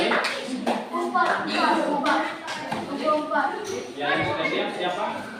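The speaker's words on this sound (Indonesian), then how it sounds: "tepuk tangan kepada dokter Ega." A crowd claps in a steady burst of applause, with voices and chatter mixed in underneath.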